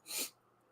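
A single short sneeze, faint and brief, followed by quiet room tone with no talking.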